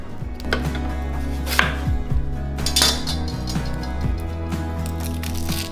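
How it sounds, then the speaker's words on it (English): Small onion being chopped on a cutting board for a holiday side dish, a run of close, irregular knife taps with a few clinks of kitchen utensils, no talking. "We just need one small onion, diced or chopped, so I'm gonna do that now."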